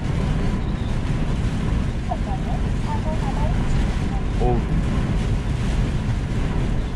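Strong gusting wind roars into the microphone outdoors amid rain, snow or hail, a loud continuous buffeting rush with a few brief squeaky tones partway through.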